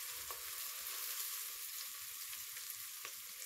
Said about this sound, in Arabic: اخدت بقى معايا دلوقتي بصلايه كده ونزلت بيها على شويه الزيت اللي عندي على معلقه زيت بالظبط كده